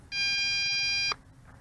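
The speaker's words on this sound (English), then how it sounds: "A steady beep indicates low voltage phase 2" MJX Bugs 3 Pro GPS quadcopter sounding its low-voltage warning: a single steady electronic beep of about one second, clear and close, over faint background noise.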